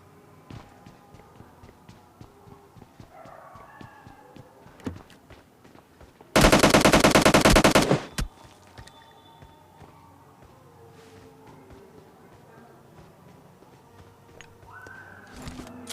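Automatic gunfire in the PUBG Lite video game, a single loud sustained burst of rapid shots lasting under two seconds, set against quiet in-game footsteps and ambient sounds.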